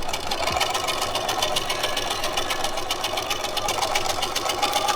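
A sewing machine stitches cotton baby blanket fabric at a steady, fast whirring pace, running continuously and close without any voices over it.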